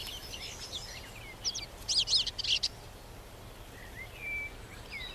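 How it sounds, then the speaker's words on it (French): Small forest birds chirp faintly at a distance, with a cluster of quick, bright tweets in the middle and a few thin calls later over a soft outdoor background. "et des petits oiseaux s'envolent quand vous vous approchez."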